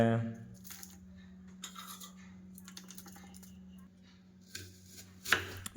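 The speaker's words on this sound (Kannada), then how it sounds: "ಎರಡು ದೊಡ್ಡ ಸೈಜ್ ಈರುಳ್ಳಿ ಕಟ್ ಮಾಡ್ಕೋಬೇಕಾಗತ್ತೆ" Two large onions are cut on a board for chicken masala, giving scattered sharp knife taps and scrapes over a low steady hum, with a faint voice in the background.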